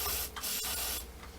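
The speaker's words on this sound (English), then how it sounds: "I'm going to spray a little bit on the outside" Aerosol lubricating oil sprayed onto a single action revolver, a few close, hissing bursts of spray with short gaps between them, heard alone without talking.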